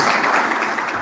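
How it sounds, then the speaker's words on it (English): A crowd claps in a dense, continuous patter of applause at an orthopedic society's annual general meeting, loud and fairly close. "Let's thank and applaud,"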